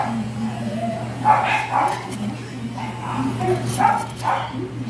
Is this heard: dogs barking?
yes